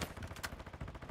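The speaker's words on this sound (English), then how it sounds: "You are taking effective fire." Rapid gunfire in Call of Duty, a quick burst of several sharp shots in close succession, fairly faint and heard alone.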